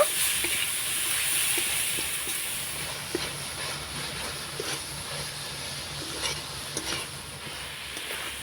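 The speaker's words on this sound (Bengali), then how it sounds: "পিঠেটা এবার নাড়াচাড়া করে পুরটা তৈরি করে নেব" Jaggery filling for rice pitha being stirred in a pan, a steady soft scraping and sizzling hiss with faint rhythmic spoon strokes throughout, no talking.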